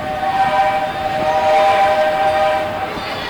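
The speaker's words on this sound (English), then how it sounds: "Is that a train in the background?" A train rumbles past in the background near a roller coaster, a steady broad roar with a sustained horn-like tone running through most of the stretch.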